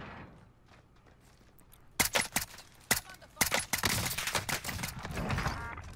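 Video game gunfire from a weak, disliked gun: sharp shots start around two seconds in, a few isolated cracks followed by denser bursts that run to the end, with no talk over them.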